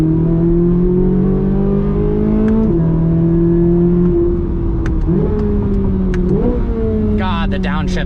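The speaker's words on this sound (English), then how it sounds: "God, the downshifts are amazing." Engine of a 2024 Corvette Z06 heard from inside while driving, a loud sustained roar whose pitch drops in steps through several downshifts with throttle blips, under a voice speaking.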